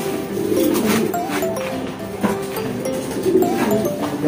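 Pigeons cooing inside a racing pigeon loft in Pasig, a continuous chorus of overlapping low coos and murmurs at close range, with faint voices and movement in the background.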